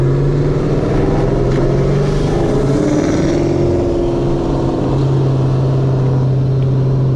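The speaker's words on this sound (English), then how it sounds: "My car sounds so good with the long tube headers." A Ford Mustang S197 fitted with long tube headers, a deep, loud exhaust drone with a steady low throb that rises in pitch as the engine revs up, heard close and continuous with no talking.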